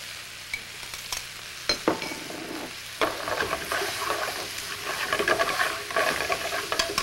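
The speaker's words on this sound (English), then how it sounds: "Let that saute for a moment or two with our portobello mushroom." Chopped shallot and portobello mushroom sauté in a hot pan, a soft continuous sizzle broken by scattered clicks and scrapes of stirring, close and fairly quiet, growing busier partway through.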